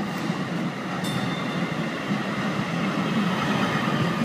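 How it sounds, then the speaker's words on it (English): A DART Blue Line light rail train arriving on the first scheduled run toward downtown Rowlett, its steady rolling rumble and wheel noise filling the platform at close range throughout, with a brief high squeal early on. "Here is the first scheduled train to downtown Rowlett."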